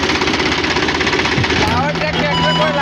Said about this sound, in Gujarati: નવા ટ્રેક્ટર ચાલુ થઈ ગયું છે